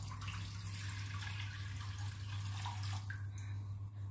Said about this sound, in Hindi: पैन में पानी डाल देंगे।